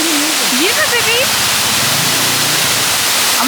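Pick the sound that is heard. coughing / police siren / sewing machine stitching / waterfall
waterfall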